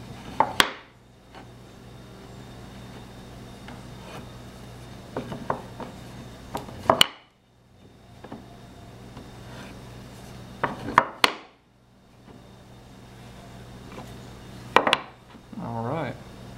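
Wooden cutting board strips are flipped end for end and set down, producing clusters of sharp wooden clacks and knocks that repeat every few seconds over a low steady background hum.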